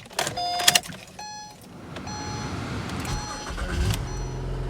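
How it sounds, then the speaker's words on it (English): Chimes and a short whir sound inside a 2010-2013 Acura ZDX, then the engine cranks and catches, settling into a low steady idle rumble up close with no voices. "Go ahead and start the car."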